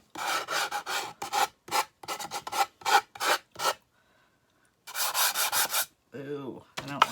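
Short bursts of hand sanding on painted wood, a dry scratchy rasp in quick back-and-forth strokes, close and fairly loud, pausing briefly before a final run of strokes.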